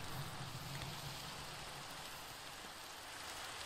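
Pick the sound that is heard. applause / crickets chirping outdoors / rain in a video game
rain in a video game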